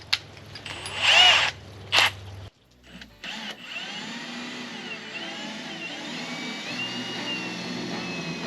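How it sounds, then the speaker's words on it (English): A power drill bores holes in a Jeep, with two short loud whining bursts followed by a long steady grinding drone after a brief pause, close up with no talk. "just gotta drill holes."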